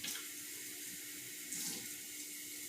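Water runs from a kitchen tap into a tablespoon, a steady close hiss of flowing water with a slight splash near the middle, alone and fairly quiet.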